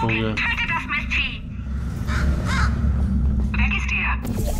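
A crow caws several times in the video game Portal 2, harsh repeated calls heard clearly alongside a steady mechanical hum, with a person talking over part of it.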